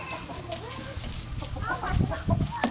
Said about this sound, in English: Oh, here comes Sexy Chicken.